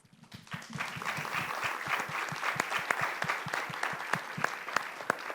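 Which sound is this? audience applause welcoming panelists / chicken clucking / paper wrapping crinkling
audience applause welcoming panelists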